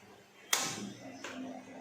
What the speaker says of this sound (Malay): Kemudian kita hidupkan api.